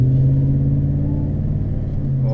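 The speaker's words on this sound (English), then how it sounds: "see if we can get a little grumble going." Chevrolet Silverado pickup with a Gibson cat-back exhaust idling with a deep, steady low rumble, a close, even burble of the engine with no voices.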